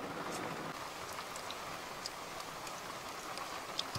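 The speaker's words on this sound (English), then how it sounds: "it's absolutely bucketing down" Rain falls steadily at a campsite, a dense, even hiss with scattered sharper drops pattering on a nearby surface.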